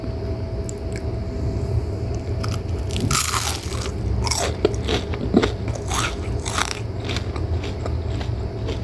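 Crunchy bites into a crispy Sundanese bakwan (bala-bala) vegetable fritter, with several sharp crackling crunches spread across the clip over a steady low background hum.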